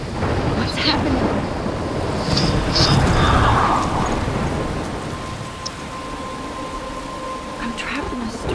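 A storm in the Life is Strange video game: heavy rain pours steadily and thunder rumbles loudly throughout, a dense continuous roar that swells early then eases slightly.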